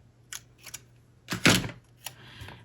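Scissors cutting washi tape at a planner desk: a few short snips and crinkles, with one louder cluster of cutting in the middle, close and quiet with pauses between.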